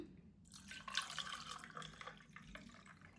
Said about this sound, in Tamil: இதோட தண்ணி சேர்ப்போம்.